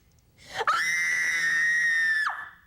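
A woman lets out one long, high-pitched scream that holds steady for nearly two seconds, then breaks off abruptly.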